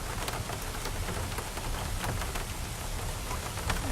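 Steady rain drums on a vehicle during a morning drive at a big cat rescue, a dense, even hiss of drops with no voices and no letup.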